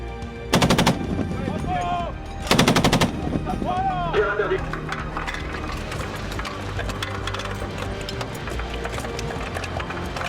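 Military machine-gun fire during a firing exercise at a simulated moving target: two short, loud bursts of rapid shots, followed by quieter range noise and someone speaking.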